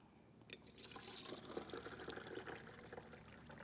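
Tomatoes are lifted out of a bowl of soaking water, giving soft splashes, drips and trickles that run continuously at close range.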